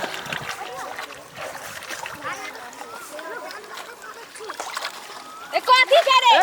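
A clod of earth thrown into pond water lands with a loud splash near the end, after children chatter and shout close by beside the pond.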